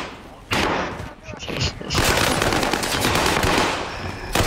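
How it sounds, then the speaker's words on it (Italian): Rapid automatic gunfire rattles loudly from a battle royale shooter match in a trio tournament, bursts running almost continuously over a dense din while players talk over it. "mi ha sparato l'amico da dietro"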